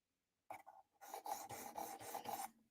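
A blade is sharpened with close, rasping strokes: one short pass, then a steady run of about six rhythmic scraping strokes in quick succession, with no voices.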